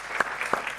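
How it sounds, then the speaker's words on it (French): Short burst of congregational applause inside a church during a Sunday morning service, steady dense clapping from a crowd with a couple of sharper claps standing out, heard alone. "j'aimerais quand même qu'on les applaudisse parce qu'ils travaillent dans l'ombre."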